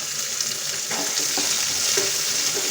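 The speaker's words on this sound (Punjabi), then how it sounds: "ਹੁਣ ਆਪਾਂ ਇਹਦੇ ਵਿੱਚ ਇਹ ਕੱਟਿਆ ਹੋਇਆ ਪਿਆਜ਼ ਪਾਉਂਦੇ ਹਾਂ" Chopped onion going into hot oil where garlic and ginger have already fried for a masoor dal, giving a steady close sizzle with a few stirring scrapes and bursts.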